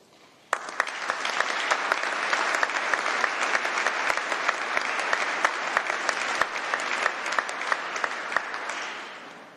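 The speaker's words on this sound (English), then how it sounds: "please let's give a round of applause and a massive cheer" Graduation congregation audience bursting into sustained applause with scattered cheers, starting abruptly and holding steady, loud and dense, before tapering off at the end.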